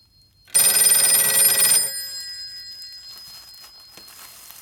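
A Western Electric 302 telephone bell rings loudly in a sustained burst for over a second, then cuts off, leaving faint ringing tones and quiet room noise.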